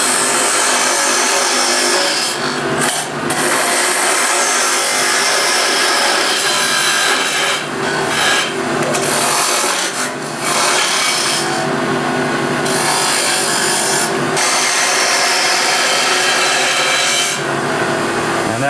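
Wood lathe turning with a spindle gouge: a continuous loud scraping, shaving roar as the gouge cuts into spinning wood, with brief dips where the tool lifts off, and no talking.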